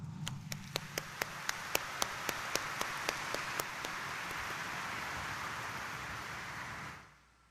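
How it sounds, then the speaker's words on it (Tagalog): Church congregation applauding at a Sunday Mass in Quiapo Church, a dense, even wash of many hands clapping for several seconds, with sharp rhythmic strikes at the start, before fading out quickly. "iparinig natin sa mahal na Senyor ang mas malakas na palakpak"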